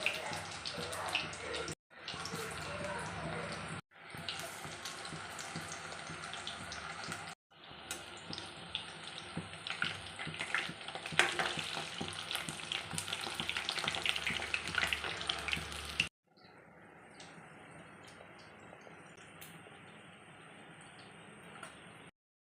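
Onion pakoda frying in hot oil, a dense crackling sizzle that runs steadily with brief cuts, then drops to a quieter, thinner bubbling toward the end, close and unaccompanied by talk.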